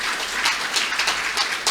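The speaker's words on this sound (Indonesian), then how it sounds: "Ayo tepuk tangan untuk bangsa Indonesia." An audience at a university public lecture in Indonesia claps together, a dense, steady patter of applause with no voices.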